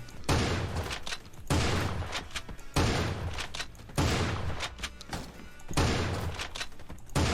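Shotgun fire in Creative Destruction, a pump-action weapon: six heavy, booming blasts spaced roughly every second and a quarter, each with a long decaying tail, loud and close with no voices over them.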